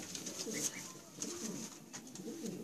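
Pigeons cooing close by, with soft repeated coos and a few brief chirps through the short stretch while a voice murmurs faintly in the background.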